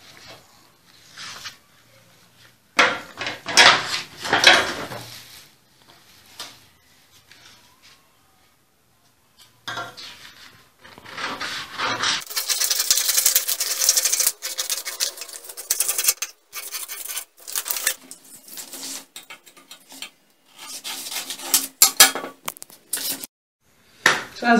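Scissors cut through a paper bodice pattern in bursts of snipping and crisp paper rustle, separated by short quiet gaps, close and alone without talk.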